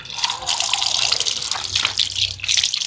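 Water gushes from a newly installed tap in a steady close splashing flow, with brief quiet voices underneath.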